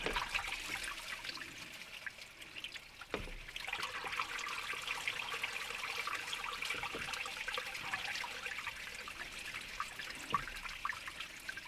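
Engine coolant drains from a car engine as a part is pulled off, making a faint, continuous trickle with occasional drips and small knocks. No voices are heard.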